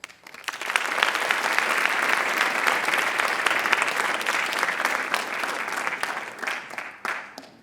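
An audience at a student writers' expo bursts into applause, a dense wash of clapping that holds steady for several seconds and then tapers off.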